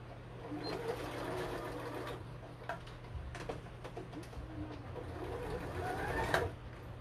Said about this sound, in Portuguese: Eu vou fazer a costura pelo lado do tule, tá?